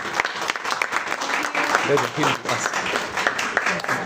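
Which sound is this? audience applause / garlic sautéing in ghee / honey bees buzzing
audience applause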